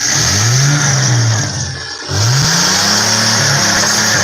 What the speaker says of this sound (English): smoking that clutch. Listen to the thing.